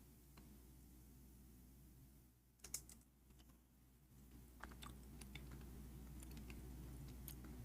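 Keys on a faulty computer keyboard click in sparse irregular taps over a steady low hum, faint and close, with a short quieter pause partway through.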